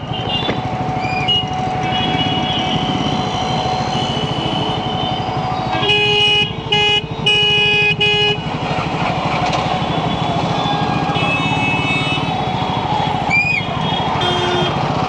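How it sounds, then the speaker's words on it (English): Heavy road traffic surrounds a Triumph Scrambler 400 X motorcycle. Engines rumble steadily while several loud car horns blare in a long cluster, and shorter honks sound near and far. "I'm badly stuck on traffic."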